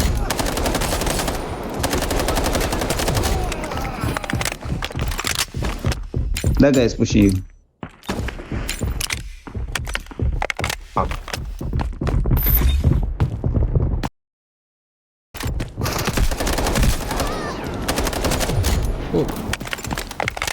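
Gunfire in the shooter game Delta Force, repeated automatic bursts and single shots in fast clusters, loud and near, broken by short quiet gaps, with a voice talking over parts of the action.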